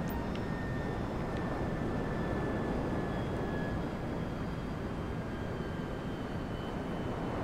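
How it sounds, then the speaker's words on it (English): Airplane engine in Grand Theft Auto V, a steady, broad roar with a thin whine above it, continuous and fairly loud with no talking. "Damn, look at the plane."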